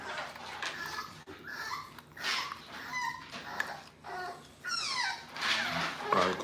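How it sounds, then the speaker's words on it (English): Dogs barking and whimpering at a cricket outdoors, a series of sharp, close yips and barks scattered across the stretch with some whining, under a faint voice. "my boys over there barking at a cricket"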